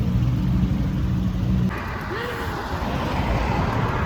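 A car drives along with a steady close road rumble heard from inside the cabin, its tone dropping slightly partway through.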